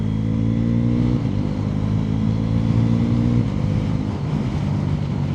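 A 2026 Bajaj Pulsar NS350Z motorcycle revs hard under load, loud and close with wind noise, and its pitch drops abruptly twice as quickshifter gear changes go through without the clutch.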